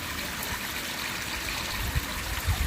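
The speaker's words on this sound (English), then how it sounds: "We have the water running down on what would be the handrail." Water trickles steadily down a carved stone handrail channel at the Alhambra, a continuous close stream with a couple of brief louder splashes near the end.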